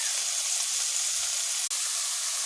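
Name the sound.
frying spice paste of onion, garlic, ginger, chili, cumin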